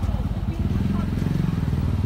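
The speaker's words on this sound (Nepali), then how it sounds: "यसरी गल्ली गल्ली छिर्ने हो बाइक" A motorcycle engine idles and putters steadily up close while squeezing through narrow lanes of a busy wholesale market in Kathmandu, Nepal, with someone talking over it throughout.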